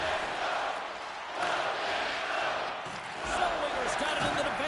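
Virtual hockey arena crowd in NHL 25 cheering and roaring in swelling waves, moderately loud and continuous, with a commentator talking over it.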